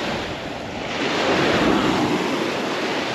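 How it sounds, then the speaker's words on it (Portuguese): Rough lake waves breaking steadily on the shore, a loud continuous wash of surf mixed with wind buffeting the microphone, and no voices. "Bastante ondas, que nem vocês estão observando aí no vídeo."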